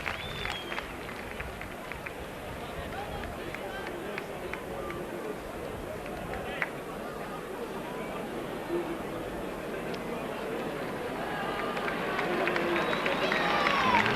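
Crowd applause and murmuring at a 1986 Wigan versus Bradford rugby league match, a steady distant wash of clapping and chatter that swells toward the end, with a commentator talking over it.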